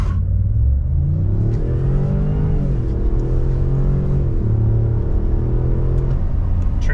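A Ford F-150 with the 3.5 EcoBoost V6 pulls away from idle, its engine rising through a rumbling rev, easing as it shifts, then climbing again. The engine sounds close and loud and steady, with no voices.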